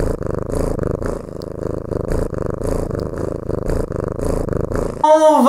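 A cat purrs close up in a steady rhythmic rumble of repeated breaths, continuous and fairly loud, ending in a brief higher-pitched sound.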